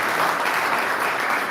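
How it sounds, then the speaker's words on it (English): A steady round of applause from a crowd at a security and safety team launch honours the Ops Committee certificate recipients, a dense, even wash of clapping with no speech over it. "Please give them all a big round of applause."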